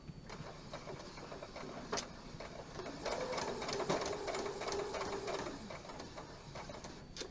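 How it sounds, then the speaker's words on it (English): A sewing machine back stitching a table topper, a rapid mechanical whir of needle strokes running in short bursts with a louder steady stretch midway, close and without talk. "back stitch"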